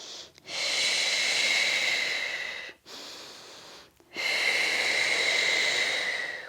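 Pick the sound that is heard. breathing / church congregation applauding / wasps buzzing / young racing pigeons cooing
breathing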